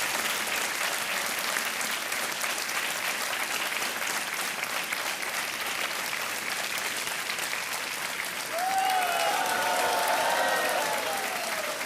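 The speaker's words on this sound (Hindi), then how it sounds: "तालियां बजती रहें" A studio audience on a TV game show applauds loudly and steadily, a dense wash of clapping that goes on throughout, with musical tones rising near the end.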